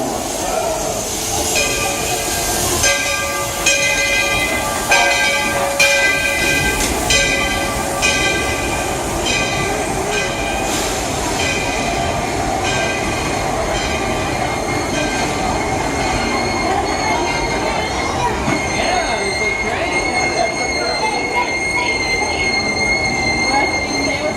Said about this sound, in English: The Walt Disney World Railroad, now arriving from a grand circle tour around the Magic Kingdom.